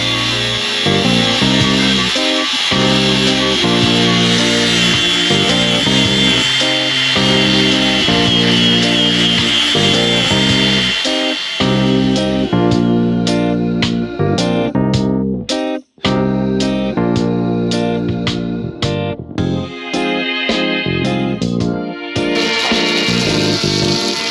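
A power grinder works over damaged spots on a boat hull in a boat yard, with a loud, sustained whining drone that later breaks into rapid stuttering bursts as the tool bites on and off the surface.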